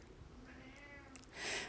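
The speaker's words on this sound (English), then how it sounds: "You guys might hear my kitty cats." Pet cats in a home setting give a faint, brief meow that rises near the end, with soft background rustle and no talking.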